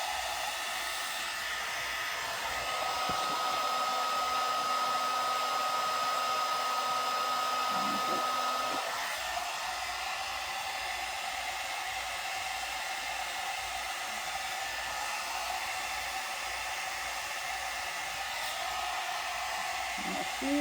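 A one-step hot air brush dryer blowing while drying and straightening hair, a steady loud whooshing hum with a tonal whine that stays constant for the whole stretch, with a brief shift in pitch partway through and no talking.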